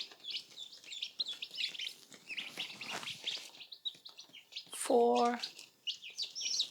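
Ducklings and chicks peep and chirp in high, rapid bursts close by, with a sharper, louder call near the end, while a person talks and counts over them.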